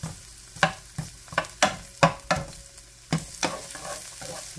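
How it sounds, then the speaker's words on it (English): Minced onion sautéing in olive oil in a pan while being stirred, a soft sizzle broken by a string of sharp scraping and tossing strikes at an irregular rhythm, close and fairly loud with no voices. "And I'm going to put 1/4 cup of minced onion in there. Throw that around a little bit."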